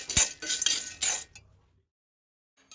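Black chickpeas are dry-roasted in a pan, giving close, hard rattling clinks in bursts for about a second before falling quiet, with a faint tick at the end.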